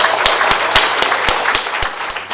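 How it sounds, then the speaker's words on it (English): Applause rings out for hospital staff graduates at a graduation ceremony, a brisk patter of many hands with strong, evenly spaced claps from someone close by standing out above the crowd. "we need to give a huge round of applause to each and every one of"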